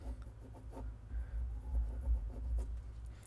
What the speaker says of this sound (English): you can see me writing down